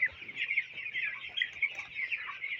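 Broiler chickens on a farm cluck continuously in a dense, overlapping chorus, steady and fairly close, with no talking.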